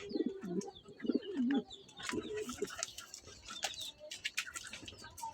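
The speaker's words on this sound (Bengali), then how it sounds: "এখানে গিরিবাজ কবুতরগুলা" Giribaz pigeons cooing at night inside a pigeon house, a few low rounded coos in the first half followed by softer rustling and faint chirps close by.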